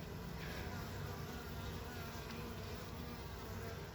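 Honeybees fanning at the hive entrance to spread queen pheromone: a steady, dense insect hum of many wings, close and continuous throughout, with no talk.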